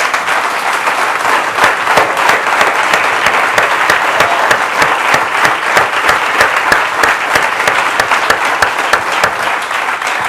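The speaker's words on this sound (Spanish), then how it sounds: "vale la pena aplaudirle al Señor" A church congregation applauds during a Spanish-language sermon, loud sustained clapping from many people with sharp individual claps standing out through a thick, continuous roar.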